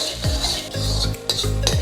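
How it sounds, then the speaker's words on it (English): A utensil stirs pineapple shrimp fried rice in a pan, giving a few close metallic clanks and scrapes against the pan over a light sizzle, with no talking. "Turn off the heat. Stir it all through, and we're done."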